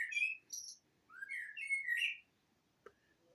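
A blackbird sings close by in a varied, fluting phrase of whistled notes with short pauses, followed by quiet, then one brief faint call near the end.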